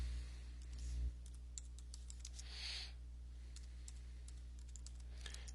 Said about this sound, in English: So let's go ahead and type that up here.